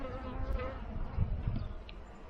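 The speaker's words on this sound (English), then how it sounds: "I don't want to disturb my bees so much." Honeybees buzzing around an open beehive during a hive inspection, a steady close insect hum with a few louder passes near the microphone.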